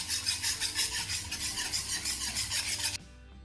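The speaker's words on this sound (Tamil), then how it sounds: "ஓகே, நான் இனி நல்லா மிக்ஸ் பண்ணி விட போகிறேன்." Spoon stirring an unroasted rice flour dodol batter in a pot, a close, steady rhythmic scraping and swishing that runs continuously for about three seconds and then stops abruptly, with no talk.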